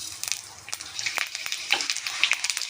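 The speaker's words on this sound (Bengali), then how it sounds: "তেলটা গরম হয়ে গেছে, আমি পাঁচফোড়ন দিয়ে দেব" Panch phoron whole spices sizzle and crackle in hot oil for a lau and chickpea curry, a steady frying hiss broken by sharp little pops and spits, close by, with no talking.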